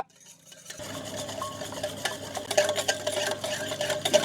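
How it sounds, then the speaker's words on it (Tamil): Two cracked eggs beaten together in a bowl for red velvet cake batter, a steady rapid scraping whisk that starts after a short pause and grows busier toward the end, close and alone. "நல்லா மிக்ஸ் பண்ணி எடுத்துக்கணும் மஞ்சள் கருவும் வெள்ளை கருவும் நல்லா ஒன்றா கலக்கிற அளவுக்கு"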